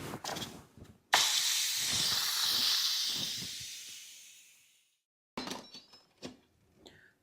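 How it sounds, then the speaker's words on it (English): An Instant Pot's quick pressure release lets out a loud, steady rush of steam that hisses for about four seconds and then fades to silence. A few clicks and handling sounds come before and after the hiss. "We're going to do a quick pressure release."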